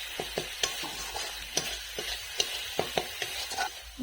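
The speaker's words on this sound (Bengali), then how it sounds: "আবার ভালোভাবে সব কষিয়ে নেব।" A spice paste of ginger, garlic, salt, turmeric and chilli sautéing in a pan, with soft frying hiss and repeated clicking taps and scrapes of a spatula stirring.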